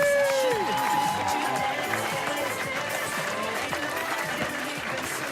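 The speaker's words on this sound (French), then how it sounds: "On s'applaudit." A group of dancers in a village diet exercise class applauds together after a dance workout, with steady, dense clapping and scattered cheers over music and voices.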